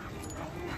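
A Labrador at a dog market whimpers softly amid a steady wash of crowd and outdoor noise, with no clear separate yelps standing out.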